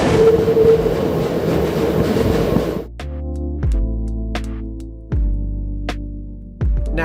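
Rocky Mountaineer train rumbling loudly through the spiral tunnels, a dense steady roar that drops away to rhythmic clickety-clack of wheels over rail joints, repeated metallic clacks and faint squeals in a quieter interior.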